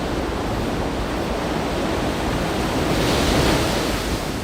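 Ocean surf rolls onto Shonan Hiratsuka beach as a steady, dense roar of breaking waves with wind noise mixed in. The sound rises slightly near the end, and no one speaks.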